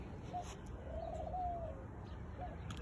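A rescued rooster vocalizes softly with a low cooing call, one drawn-out note between brief shorter ones, over a quiet noisy background.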